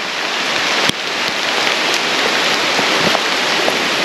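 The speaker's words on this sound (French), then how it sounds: "la pluie commence gentiment à être pressante" Heavy rain pours steadily and loudly in the Kinabatangan jungle of Borneo, a dense hiss with occasional sharper drips and taps close by.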